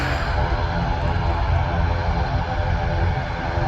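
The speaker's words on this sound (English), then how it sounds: "We've got a Loganair on the way out. I don't think this place could get much louder" Loud, steady roar of Loganair aircraft engines as the plane departs at Manchester Airport, heard close and continuous throughout with no voices.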